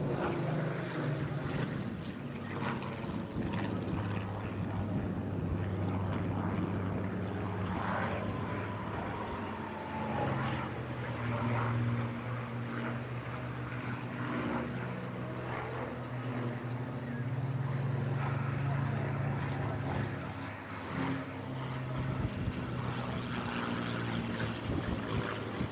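Display aircraft flying a gentle barrel roll at the Eastbourne International Airshow 2024, a steady, continuous engine drone that holds at moderate distance throughout, swelling slightly, against broad outdoor crowd and wind noise.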